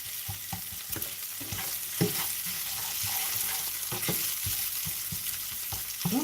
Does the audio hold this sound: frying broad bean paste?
yes